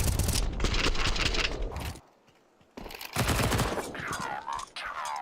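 Rapid bursts of rifle fire in the shooter game Counter-Strike, loud, close and dense, broken by a brief near-silent gap before more shooting and a clipped sweeping effect.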